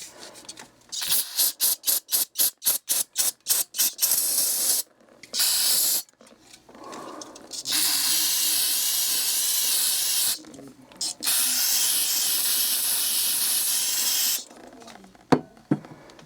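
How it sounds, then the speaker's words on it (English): Brake cleaner sprays in a rapid run of short bursts onto a rifle bolt being prepared for jeweling, then in longer steady hissing blasts, close and loud, with brief pauses between. "I'll go ahead and break it down with this brake cleaner here."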